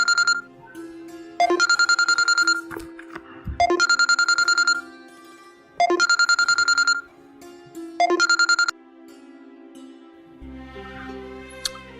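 A phone rings during an outgoing call to an uncle: four identical electronic ring bursts in a steady, evenly spaced pattern, clear and close, followed by a softer different tone.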